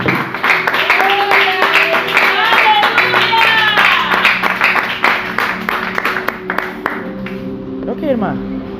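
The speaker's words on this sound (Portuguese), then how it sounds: "Vamos glorificar a Deus com uma salva de palmas." A church congregation at a teaching service claps along in rhythmic, fairly loud applause, with singing or vocal tones and voices mixed through it, tapering off near the end.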